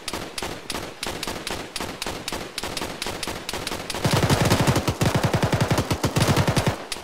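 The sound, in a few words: vehicle-mounted gun firing in the Arma video game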